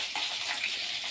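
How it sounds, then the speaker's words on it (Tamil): Large green chillies frying in a pan, giving a steady, close hiss of sizzling oil that runs unbroken from start to finish, with no voices. "நான் பெரிய பச்சை மிளகாய் போட்டிருக்கேன்"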